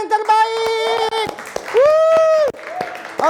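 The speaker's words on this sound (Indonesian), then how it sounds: "Kalau semangat kasih tepuk tangan yang terbaik." A children's congregation at a Kids for Christ church service claps energetically, the quick, close hand claps mixed with loud shouted and cheering young voices throughout.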